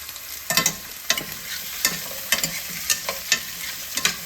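Pumpkin, drumstick pieces and carrots for sambar stirred and sautéed in a hot pan: a steady sizzle with repeated sharp scraping strokes of the spoon, close and loud, no talking.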